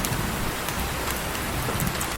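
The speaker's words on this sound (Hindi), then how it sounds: "लेकिन बारिश तो बहुत तेज हो रही थी, हवाएं बहुत तेज चल रही थी।" Heavy rain with strong wind as a cartoon sound effect, a dense steady hiss of downpour filling the clip at full loudness with no voices.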